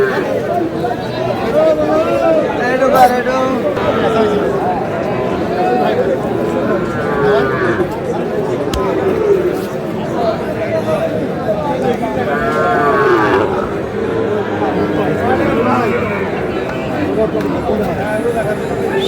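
Sahiwal bull calves low and moo amid the busy crowd of a Kurigram cattle market, occasional close bellows rising over constant chatter and bargaining voices.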